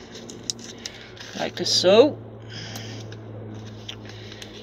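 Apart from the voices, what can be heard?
scissors cutting card in half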